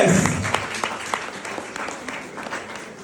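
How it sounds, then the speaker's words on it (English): An audience at a school awards event bursts into steady applause that fills the room. Voices and some shouts mix into the dense clapping, which carries on without a break. "I want you to clap yourselves for continuing to recognize and reward excellence"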